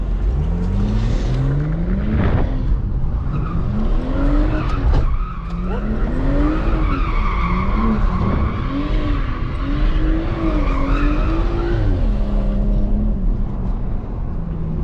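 A widebody Dodge SRT Hellcat drifts with loud, sustained tire skidding and squeal over a rising and falling engine roar, heard close from inside the car for the whole stretch.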